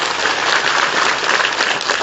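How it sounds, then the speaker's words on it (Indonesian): Loud, dense audience applause at a regional political gathering for regent candidates, a short unbroken burst of many hands clapping nearby. "Tepuk tangan dong."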